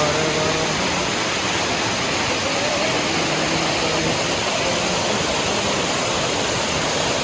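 Ananthagiri waterfall in the hills of Araku valley, a loud, steady, dense roar of falling water that fills the whole clip without a break.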